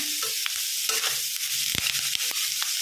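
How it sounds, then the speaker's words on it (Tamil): Chopped beetroot is sautéed in a pan, with a steady frying hiss under repeated scraping and stirring strokes, close up and fairly loud, with no voices. "ஓரளவு வதங்கினதுமே கட் பண்ணியிருக்க பீட்ரூட் ஊற்றிக்கலாம்"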